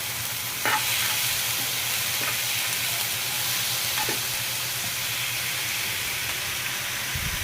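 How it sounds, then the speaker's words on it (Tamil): Tomatoes sizzle and hiss steadily in a hot pan up close, with a few scrapes of a spoon stirring them. "தக்காளியை சேர்த்து வதக்கிடுவோம்"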